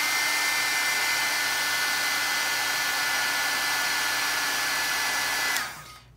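A heat embossing tool blows steadily to set embossing powder, a loud, even whirring rush that cuts off abruptly near the end and leaves quiet.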